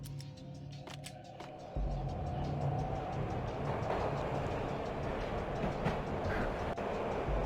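A train rolls along steadily in the Max Payne video game, a continuous low rumble with faint rhythmic clatter that rises after a quiet opening and holds for several seconds.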